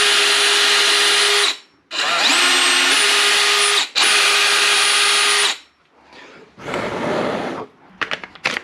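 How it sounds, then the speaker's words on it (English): Power drill pre-drilling holes in a skateboard deck for rails: three long loud whining runs, the pitch dipping under load, then a rougher burst of drilling and a few short ticks near the end. "So get the two ends done first, and we can just pre-drill these at once."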